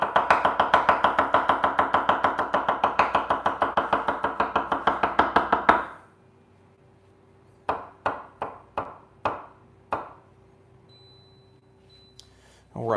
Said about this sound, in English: before we finish chopping the shallots